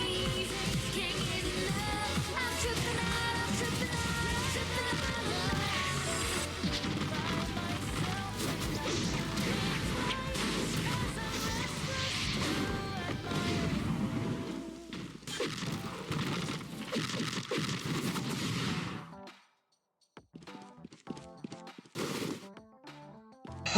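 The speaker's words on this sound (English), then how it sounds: "3 M1s into a down slam, into a lucky volley with a lucky rush, with energy surge, and end it off with an overwhelming luck" Hakari's combo in the Roblox game Jujutsu Shenanigans: a dense run of loud smashing hits over game music, with three basic strikes, a down slam, volley and rush attacks and an energy surge, then a quieter gap and a few final impacts from the ultimate finisher.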